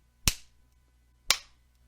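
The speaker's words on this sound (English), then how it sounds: "you can hear a little bit of echo in my background from that clap" Two sharp hand claps about a second apart inside a room, each leaving a short echoing tail of room ambience, with silence around them.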